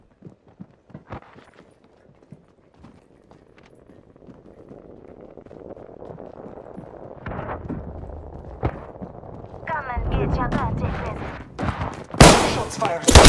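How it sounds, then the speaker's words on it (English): Gunfire in the battle royale video game Apex Legends: scattered faint shots early, then heavier volleys building near the end, rising into loud, dense bursts over a busy game soundscape. "Shots fired."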